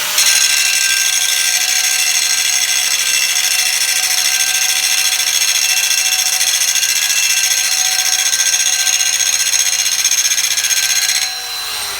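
A frictionless motor device spun up to roughly 12,000 rpm gives a loud, steady high-pitched whine with layered tones, holding constant before easing off slightly near the end, with no voices.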